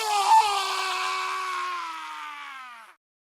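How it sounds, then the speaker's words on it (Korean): A single drawn-out scream sound effect in a horror story narration, loud and close, with a strained wavering voice that holds for about three seconds and then cuts off into silence. "순간 비명 소리가 들렸다."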